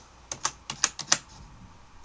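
A terminal command is typed on a computer keyboard, with a quick run of about six crisp key clicks followed by a pause and one more tap, close and moderately quiet.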